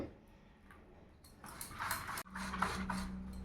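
Cauliflower patishapta batter being whisked and mixed in a bowl, giving soft continuous stirring and light clinking that grows busier partway through, with a low hum underneath.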